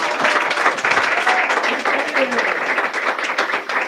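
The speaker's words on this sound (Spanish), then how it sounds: "Dele un aplauso al Señor." A church congregation at an anniversary service claps together in praise, a dense, loud, sustained wash of applause with a voice speaking faintly underneath.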